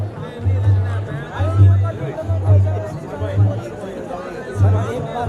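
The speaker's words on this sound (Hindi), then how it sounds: "आज तक बहुत ज़्यादा भीड़ है, आज काफ़ी रश है गौचर मेले में" A dense crowd at the Gauchar fair (mela) in Uttarakhand fills the air with steady chatter and babble, close and loud, with a low throbbing pulse repeating underneath.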